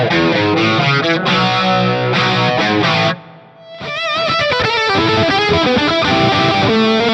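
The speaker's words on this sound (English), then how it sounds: "It's got a straight up amp cab and reverb sound" Electric guitar played through a Fractal FM3 using only amp, cab and reverb blocks for a classic rock tone: loud overdriven chords and riffs ring out, drop to a brief near-silent gap, then resume with sustained, reverberant notes.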